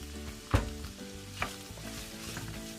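Sliced garlic sizzling in a hot pan with duck meat, a steady close frying crackle with a couple of sharp utensil taps on top.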